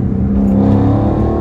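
A Dodge SRT 392 engine roars loud and close at sustained throttle, a dense steady low drone with strong harmonics and no gaps, driven through city streets.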